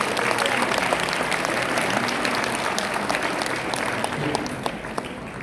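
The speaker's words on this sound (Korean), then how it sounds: "우리 박수 한번." A seminar audience applauds steadily and loudly for about five seconds, a dense continuous patter of many hands that stays even throughout with no pause.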